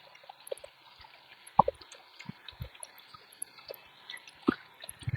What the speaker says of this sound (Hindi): 1 मिनट अच्छी तरह से मिक्स करेंगे।